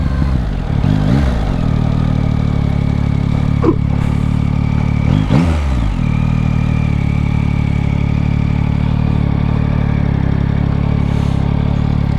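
A 2025 Yamaha MT-09 SP motorcycle engine runs loud and close at a steady idle, with a couple of brief clunks and pitch changes as the quick shifter clicks through gears.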